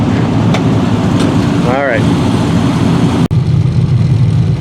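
Several classic cars idle lined up for a tour at a road trials event in Kentucky, a loud steady low rumble throughout with a brief tonal whine midway, while someone speaks over it.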